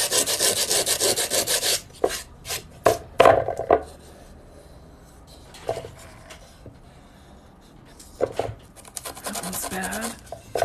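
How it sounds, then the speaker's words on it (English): Rough pieces get sanded by hand with loud rasping strokes, first in a dense run and then in separate scrubbing bursts with quieter gaps between them. "These were so rough, I needed to sand them"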